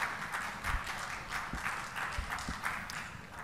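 A conference audience in Kolkata applauds a speaker, steady dense clapping from many hands at moderate distance that continues without a break and fades slightly toward the end.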